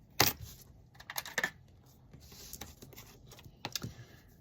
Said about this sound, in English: And then I'm gonna cut it.